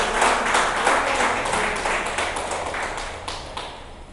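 A church congregation claps in praise, a dense wash of many hands that is loud at first and slowly fades, with no talk over it.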